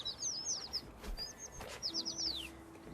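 Quick bursts of high chirping come from a bird in the video game Little Kitty, Big City, with one trill early and another longer run near the end over a quiet background.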